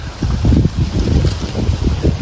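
Strong wind blows out at sea, loud and gusty buffeting close to the microphone for the whole stretch, alone without talk.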